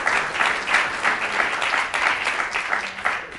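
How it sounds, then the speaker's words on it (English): Audience applause filling a hall at the end of a conference fireside chat with a psychologist and author, a steady sustained wash of many hands clapping without pause. "Let's give a big round of applause for Carol."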